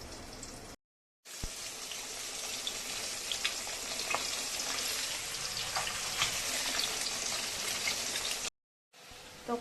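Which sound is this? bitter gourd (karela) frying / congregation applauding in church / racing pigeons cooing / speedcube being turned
bitter gourd (karela) frying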